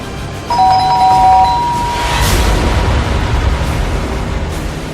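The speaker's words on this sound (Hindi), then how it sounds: "दरवाजे की घंटी फिर से बजी।" A doorbell chimes once, a bright two-tone ding ringing clearly over a dull background rumble that lingers after it fades.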